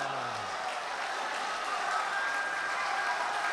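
Audience applause at a mushaira poetry recital, a dense, steady wash of clapping that holds evenly throughout, with a few voices mixed in.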